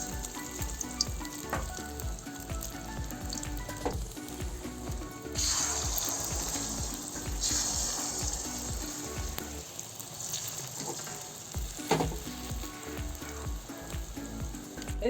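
Hot oil sizzles in a wok as ingredients go in for a masala egg omelette curry. A steady close crackle runs throughout and swells louder midway, with background music playing underneath.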